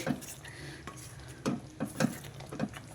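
Spicy chicken chili gravy curry is stirred in a pan, with a soft background sizzle and several distinct spoon scrapes and knocks against the metal at an uneven pace.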